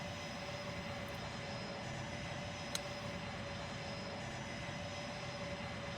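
Aircraft engines starting and spinning in the train simulator game Trainz 22, a steady broadband roar with a faint whine, constant and alone.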